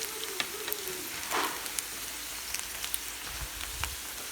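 Pork frying for chilli pork, a steady crackling sizzle with scattered sharp pops and spits, close and continuous at moderate level with no talking.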